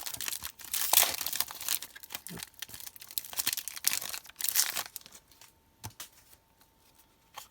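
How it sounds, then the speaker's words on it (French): A Pokémon Hidden Fates booster pack wrapper, a Mew pack, is torn open at close range with bursts of crisp plastic crinkling and ripping, then a few fainter rustles and a light tap. "on va commencer du coup par un booster Mew. Il va bien s'ouvrir, ouais."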